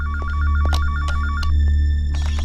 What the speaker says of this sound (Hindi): फोन बजने दो। फोन कट जाएगा।